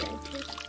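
Water trickles and pours out of a handmade cedar bark basket, a steady close splashing dribble lasting under a second with no talk.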